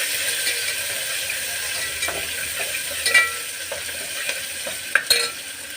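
Onions sizzle in hot oil in a pan with tempering spices and curry leaves, a continuous close frying hiss punctuated by repeated scraping and tapping of a spatula being stirred through; no voices.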